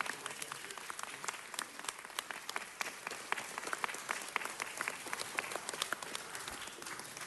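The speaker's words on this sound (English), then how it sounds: "Give them a round of applause." Applause for a Los Angeles city baseball championship high school team during a city council presentation, a steady clatter of many hands held at moderate volume for several seconds with no talking.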